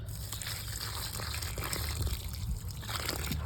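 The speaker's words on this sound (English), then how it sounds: "they'll get the drink of the Miracle-Gro water like so" Miracle-Gro plant food water is poured onto tomato plants in a garden, a soft continuous splashing trickle that runs quietly and steadily without any talking.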